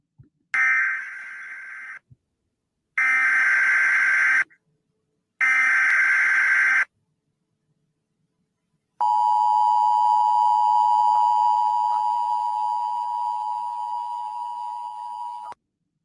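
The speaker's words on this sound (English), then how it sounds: "We already played the World War III siren." Recorded siren alarm: three loud, steady electronic tone bursts separated by silence, then a longer sustained pure tone that slowly fades, all alone without talk.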